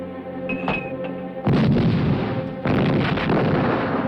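Heavy battlefield fire at El Alamein: two deep, loud booming blasts, one after the other, each leaving a long rumbling roar over a constant low background din, with no voices.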